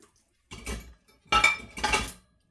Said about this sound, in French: Là, je fais la petite vaisselle